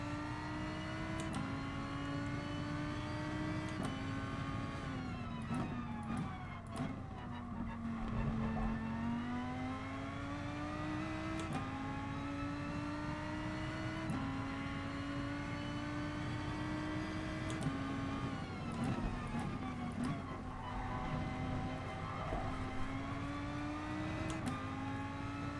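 A road car's engine drones steadily in GT Sport, pitch climbing through each gear and dropping at shifts as it pulls hard around a track, loud and continuous without pause.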